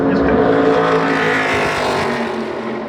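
A NASCAR Craftsman Truck Series race truck roars across the line at Phoenix Raceway, its engine loud and sustained for a few seconds before fading slightly as it passes.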